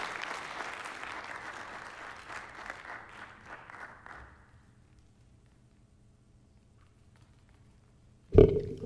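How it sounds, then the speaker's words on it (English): A festival audience claps after a song performance, moderate applause tapering off over several seconds into near silence, then broken by one sudden loud thump. "So give them a round of applause, please."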